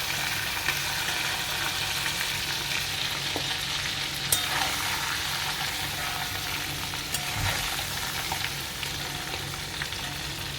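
Chicken fries in oil with dried chilli and bay leaf, giving a loud, continuous close sizzle with scattered crackles and a few sharp spatters, and no voices.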